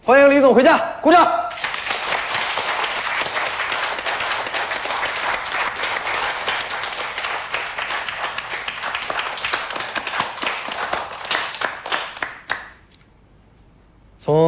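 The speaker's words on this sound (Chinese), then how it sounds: "欢迎李总回家，鼓掌。" Office staff clap together to welcome their boss home, a brisk crowd of hands applauding steadily for about ten seconds after a brief spoken line, then cutting off into near silence.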